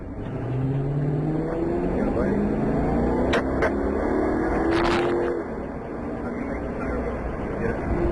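A car accelerating during a police chase, engine rising in pitch through repeated revving strokes, loud and close, with a few sharp clanks partway through and voices underneath.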